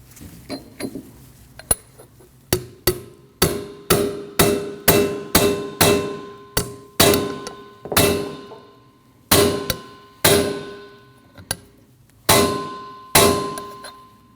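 A wheel bearing seal is hammered into the rear knuckle of a 2003-2008 Subaru Forester. About twenty loud, ringing metallic clangs come up close, some single and some in quick pairs, each fading with a bright ring.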